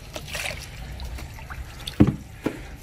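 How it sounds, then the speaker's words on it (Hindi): Warm water is poured and trickles into a tub used for bathing pigeons; soft dribbling with a few louder splashes near the end, close and fairly quiet. "अभी ये मैं नीचे से पानी गर्म करके लाया हूँ, तो इसमें हल्का फुल्का गर्म पानी ऐड करेंगे"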